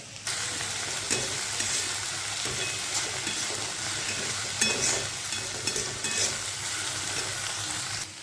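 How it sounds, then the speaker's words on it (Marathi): Eggplant bharit being stir-fried in a pan gives a steady, close sizzle and frying hiss with light scraping stirs throughout, and no one speaks. "हे बघा अशी मी परतून घेते नंतर टाकते मी त्याच्यामध्ये"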